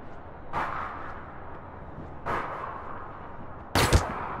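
Three separate gunshots from the online game APB Reloaded: two single cracks spaced well apart, then a louder, sharper final shot, each standing alone over a quiet background.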